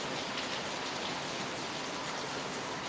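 Heavy rain pours outside, heard through open doors as a dense, constant hiss of falling water, steady and fairly quiet with no voices.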